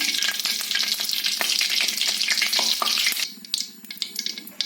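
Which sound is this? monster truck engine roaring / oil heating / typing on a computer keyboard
oil heating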